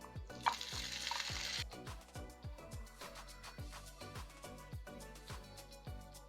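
Peppers frying with onions and carrots in hot oil, a steady sizzle with a burst of louder crackle early on and repeated scraping stirs of a utensil against the pan throughout, no talking.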